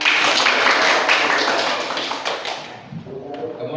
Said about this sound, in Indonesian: Tepuk tangan untuk Risa.